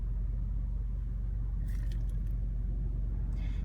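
Light car traffic at a Greenwood Avenue intersection in Seattle early on a quiet morning: a steady low road rumble with a faint passing vehicle hiss midway and another near the end, no voices.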